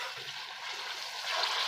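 A light splash of water is poured into dal masala cooking in a pan, a soft continuous trickle and hiss that grows slightly louder near the end.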